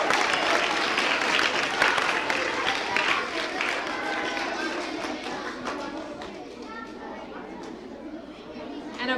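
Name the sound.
audience applause for play readers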